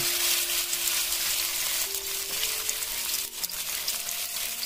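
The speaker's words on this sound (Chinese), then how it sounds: "这样煎炒12秒左右，虾仁差不多在8分到9分熟就行了。" Continuous hissing sizzle of food frying in hot oil, steady throughout with a faint tonal hum underneath.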